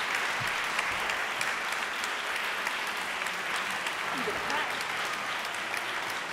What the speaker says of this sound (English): this respectful and celebratory applause for you could go on for the whole hour